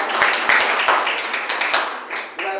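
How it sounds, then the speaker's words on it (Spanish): A church study-class audience gives a warm round of applause for the woman serving them, with dense, close clapping running steadily throughout and a few sharper individual claps standing out. "les damos un fuerte aplauso"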